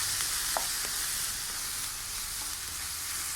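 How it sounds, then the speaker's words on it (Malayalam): Egg poured over softened tomato sizzles in a pan with a steady, even hiss, broken only by a couple of faint clicks near the start. "തക്കാളി നന്നായിട്ട് വാടി വരുമ്പോൾ മുട്ട ഒഴിച്ച് കൊടുക്കും"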